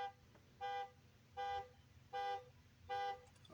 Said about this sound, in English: You hear that horn?